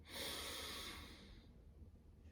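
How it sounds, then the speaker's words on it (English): Slow deep breath drawn in, then released, close and soft during a guided meditation, with the inhale strongest and the exhale trailing off quietly. "Last one, deep breath in and out."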